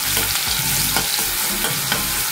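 Green chili paste sautéing in hot oil for fenugreek-spinach parathas: a loud, dense, unbroken sizzle with faint stirring, close up and without talk.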